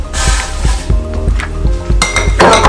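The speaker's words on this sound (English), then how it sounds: "So we're gonna put our hemp seed into the blender." Hemp seeds tumble into a blender jar, giving a close, loud rattle of small seeds striking hard plastic or glass, with a few clinking knocks as the pour shifts and a brighter burst of rattling near the end.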